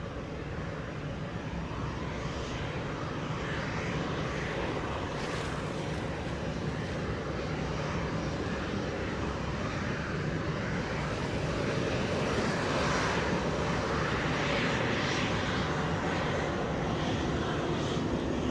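A Spirit airliner roars steadily through its takeoff roll on runway 07 at Montego Bay, a loud, continuous broadband jet rumble that swells slightly toward the end, with no voices.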